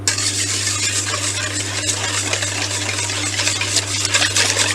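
Eggs and sugar whisked together in a bowl, a continuous busy scratching and rattling with a steady low hum beneath, close and constant throughout.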